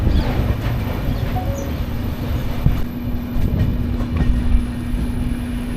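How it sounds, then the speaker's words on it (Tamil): Seen from aboard the Nagercoil–Mumbai Express, another train passes from the opposite direction with a loud, steady rumble and rattling wheel clatter that swells and fades, with no voices. "ஆப்போசிட்டில் இருந்து வேறு இன்னொரு ட்ரெயின் வருது"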